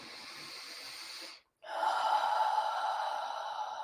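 A long, slow breath, a steady airy exhale, a brief pause, then a deeper drawn inhale, close and soft in a quiet calm space, with no talking.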